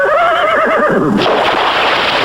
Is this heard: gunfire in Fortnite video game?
no